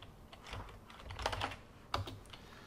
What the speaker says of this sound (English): I can execute this by typing sudo